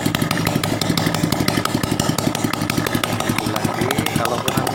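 A Honda Supra 125 motorcycle engine runs loud and close with no exhaust or valve cover fitted, a harsh, rapid rattling pulse, sounding raw and unmuffled as it idles steadily.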